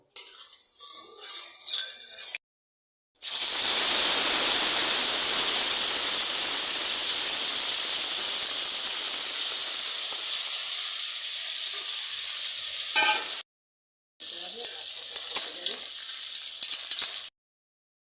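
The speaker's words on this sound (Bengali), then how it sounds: "এখন কড়াইতে তেল দিয়ে মশলা মাখা কাঁকড়াটা দিয়ে দেওয়া হবে" Loud, steady sizzling of spice-coated crab frying in hot oil in a wok, continuous for several seconds, with quieter kitchen sounds before and after.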